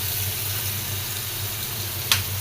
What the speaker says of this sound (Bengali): এটা ফ্রাই করে দিচ্ছি।